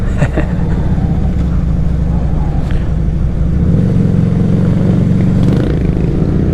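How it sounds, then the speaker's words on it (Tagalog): A Victorino 250i motorcycle rides along a road in Nueva Ecija at around 120 km/h. Its engine holds a loud, steady droning hum throughout with wind rush and a slight shift in pitch partway through, and no talking. "Ang chill lang ng ride natin sa motor na to, no?"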